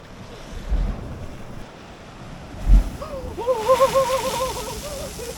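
Ocean waves surge between coastal rocks on the Tasmanian shore, a steady rushing wash with buffeting wind noise on the microphone, one louder surge swelling midway and a thin whistling tone rising near the end.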